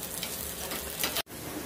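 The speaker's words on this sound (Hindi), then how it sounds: "जब तक मिर्च हमारी नहीं होगी तब तक मैं भूनूंगी थोड़ा।" Green chillies fry in a pan over a low gas flame in desi ghee while chivda is made, a steady close sizzle with a brief drop to silence before the sizzle resumes.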